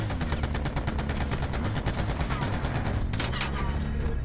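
Video game gunfire, a dense rapid stream of shots rattling continuously in a multiplayer match, with a louder burst near the end over background game noise.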